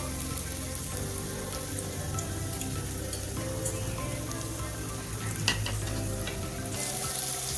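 Gram flour frying in oil while cooking paneer bhurji hisses and sizzles steadily and close, with faint stirring scrapes and no talking.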